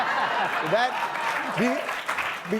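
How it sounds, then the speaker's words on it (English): On a late-night comedy show, the studio audience gives scattered sympathy applause after a joke that fell flat, the clapping steady and moderate beneath a voice. "That was sympathy applause"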